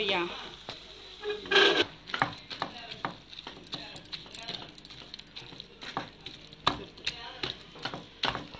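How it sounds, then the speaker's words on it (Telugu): A lid lifts off a pot of cooked dal made with karonda (vakkaya), bringing a few sharp metallic clinks and clatters up close, then scattered light scraping and tapping of utensils against the pot. "ఇందాక మనం మూత పెట్టుకున్నాం కదా ఫ్రెండ్స్, ఇప్పుడు మనం ఓపెన్ చేసి చూసుకుందాము"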